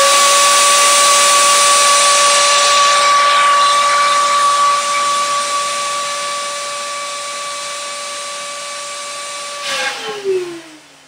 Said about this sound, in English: You can really feel the air blowing through there. I mean, it's a pretty strong blower.